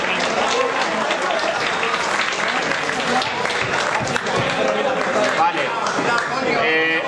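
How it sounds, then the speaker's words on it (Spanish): An audience at a tabletop gaming event in San Juan de Alicante claps for the game's creators. The loud, sustained applause fills the whole clip, and a single spoken word briefly surfaces in it. "un aplauso para los creadores"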